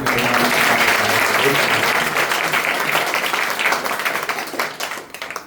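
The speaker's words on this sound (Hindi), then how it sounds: "जोरदार तालियों के साथ" A room full of people claps loudly in dense applause that gradually thins and fades over several seconds.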